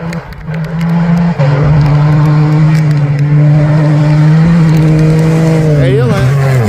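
A Red Bull rally buggy at a Portuguese cross-country rally raid stage roars loudly and steadily close by, its engine note holding then dropping as it speeds past, with a brief tyre-scrub flutter near the end.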